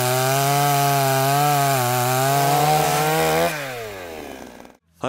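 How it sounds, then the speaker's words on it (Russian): A petrol chainsaw bites into wood during a volunteer cleanup, its engine whining steadily and loudly close by, then the pitch shifts and drops as the cut finishes and the saw cuts off abruptly. "Медлить не стал и сразу взялся за бензопилу"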